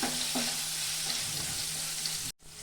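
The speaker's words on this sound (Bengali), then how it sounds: "অল্প লবণ দিয়ে দিব, অল্প হলুদ দিয়ে দিব, অল্প লঙ্কা গুঁড়া দিয়ে দিব, দিয়ে আমি লাল করে ভেজে নেব।" Paneer frying in a kadai with salt, turmeric and chilli powder, a dense steady sizzle up close with faint stirring, cut off abruptly near the end.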